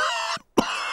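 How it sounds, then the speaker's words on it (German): A cartoon bear doctor coughs twice in quick succession, close and clear. A short gap of silence separates the two coughs, and the second is sharper and throatier than the first. "Oje, Dr. Braunbär hat sich mit Pedros Husten angesteckt"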